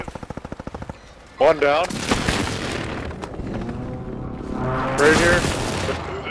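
Gunfire in the video game Warzone 3 on Fortune's Keep: a rapid burst of close automatic shots opens, followed by louder booms and further firing, with players talking over it.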